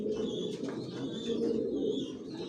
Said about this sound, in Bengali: সব একই লাইনের কবুতর পালি আমার লফটে, জনসনের অরিজিনাল রেসার।